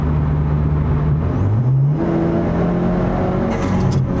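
A tuned Stage 2 Audi A4 accelerates hard on a highway from about 60, its engine note climbing steadily in pitch under constant loud road and wind roar, heard from inside the cabin without talk.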